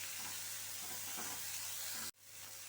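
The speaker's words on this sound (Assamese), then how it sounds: "এতিয়া গোটেইখিনি ভালদৰে ভাজিব লাগিব অকণমান সময়।" Spice masala with chilli powder for egg korma sizzles steadily and loudly in a hot pan, a dense continuous frying hiss that cuts off abruptly near the end.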